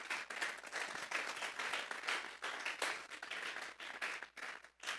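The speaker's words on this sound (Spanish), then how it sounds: "Vamos a darle una ofrenda de palmas a Dios en esta hora." A church congregation claps and applauds together in a sustained, dense burst of palms lasting several seconds, loud and fairly close, with no speech over it.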